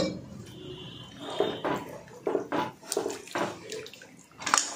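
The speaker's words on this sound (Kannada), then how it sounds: "ಸಾರು ಎಷ್ಟು ಬೇಕೋ ಅಷ್ಟು ನೀರು ಹಾಕ್ಕೊಳ್ತಾ ಇದ್ದೀನಿ" Water is poured into a pan of fried onions and tomato for a thin South Indian tomato saaru, a close splashing gush with irregular surges and clatter.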